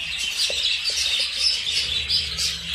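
Rainbow budgerigars, Australian parakeets kept as breeding pairs, chirp steadily in a dense, continuous twittering chorus, with a few soft lower thumps underneath and no one speaking.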